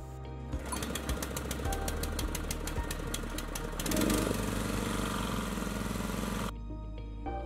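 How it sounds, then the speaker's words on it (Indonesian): A purpose-built machine washing Bangka pepper seeds runs with a hard, rapid mechanical rattle and steady engine drone, rising somewhat louder mid-way before the clatter cuts off abruptly near the end, no talk. "proses pencucian biji lada akan dilakukan menggunakan mesin yang telah didesain khusus untuk mencuci biji lada"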